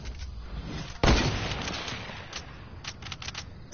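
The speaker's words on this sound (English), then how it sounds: "Mate, it's grenade." A grenade bursts in a Fortnite match, one sharp, loud boom followed by a decaying rumble, then scattered faint pops and gunfire-like clicks.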